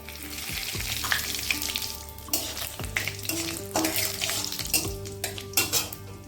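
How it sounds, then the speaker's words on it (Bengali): Cumin, a bay leaf and a dried chili crackle in hot mustard oil in a kadai, a busy sizzle broken by sharp metallic knocks and clatter of a spoon against the pan. "এবার দিয়ে দেবো সর্ষের তেল ফোড়নের জন্য জিরে একটা তেজপাতা আর একটা শুকনো লঙ্কা"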